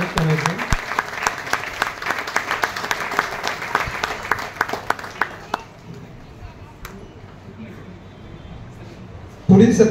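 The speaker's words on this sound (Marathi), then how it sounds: "जोरात टाळ्या वाजवून त्यांचं स्वागत करायचं." Loud applause from an audience welcoming a guest at a Marathi awards felicitation ceremony, dense clapping for several seconds, then fading into quieter room noise before a burst of sound at the end.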